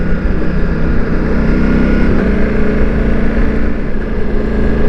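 A Ducati Multistrada V4 motorcycle pulls hard under acceleration, its engine note loud and close, running steadily with a quick-shifter gear change or two and no voices.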